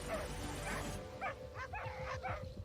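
Two big dogs bark, yip and whine in short bursts while circling and confronting a porcupine, sharp and nearby over a noisy outdoor background.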